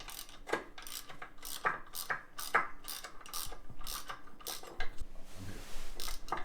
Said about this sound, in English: Get your ratchet, lefty loosey.